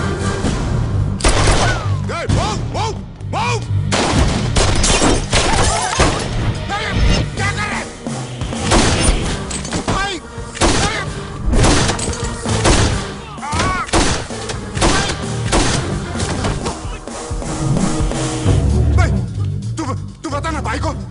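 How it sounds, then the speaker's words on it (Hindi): Gunfire in an Indian action movie scene, bursts of shots and booms layered with loud, tense dialogue and a music score throughout. "फायरिंग क्यों हो रही है?"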